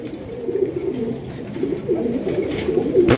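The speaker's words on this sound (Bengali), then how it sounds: "এখানে রয়েছে চমৎকার একজন নান কবুতর।" A nun pigeon coos in low, repeated rolling phrases close by, ending with a brief sharp knock.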